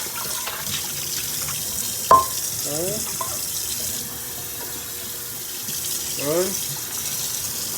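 Tap water runs into a sink while dishes are washed up after boiling water was used, a steady wash of flow with a few short clinks and a brief voice speaking.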